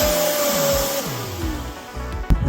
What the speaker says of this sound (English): I'm gonna vacuum this real fast while I'm at it.